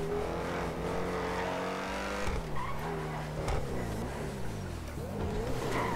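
Modded car in GTA 5 with a loud engine, droning steadily with rising and falling pitch, tire-squeal-like sweeps and sharp crackles popping through in the second half.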